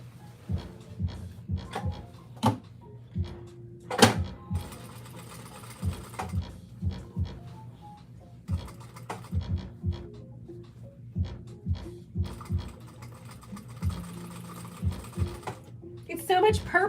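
Sewing machine top stitching a purple girls' dress, running in short repeated bursts of rapid stitching between pauses, close by, with someone talking in between.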